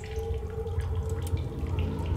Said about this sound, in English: Cross pool of tidal water and continue investigation.